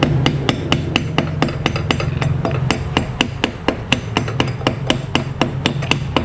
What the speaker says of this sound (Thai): เราก็ใช้ค้อนตีนะครับ